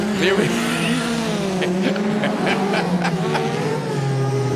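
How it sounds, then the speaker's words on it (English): A rallycross car warms up outside the commentary box at a RallyX Nordic round in Arvika, Sweden, its engine holding a steady, throaty drone with small rev changes beneath ongoing commentary. "There's a car doing a warm-up outside the commentary box that sounds like it might be Gallardo"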